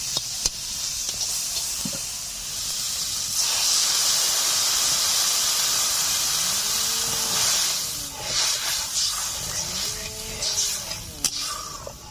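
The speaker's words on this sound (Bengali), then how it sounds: "কড়াইতে ঝোল জাল হচ্ছে" Dhela fish curry with turmeric, chili powder and water simmers in a kadai in village-style cooking, giving a loud, continuous bubbling hiss with steam that swells and fades over several seconds.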